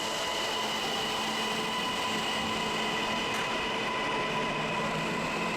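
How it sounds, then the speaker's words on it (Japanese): Steady rail rumble with a constant hum and hiss, a train slowly departing a station at close range with no distinct clatter or voices, at Sakuragawa Station on the Hanshin Namba Line, Osaka. "しばらくして、列車は発車していきます。"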